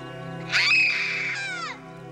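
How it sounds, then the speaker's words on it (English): A woman screams out of a bad dream in a TV movie scene. The cry is sharp and high-pitched, rises suddenly, holds for about a second, then bends downward and fades. A steady low hum sits underneath it. "Whenever she has a bad dream, she screams to wake herself up."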